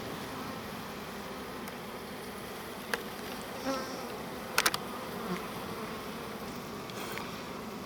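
Honey bees buzz steadily throughout at an opened hive being inspected for brood, honey and pollen frames, a dense close drone with a few brief clicks and knocks of frame handling.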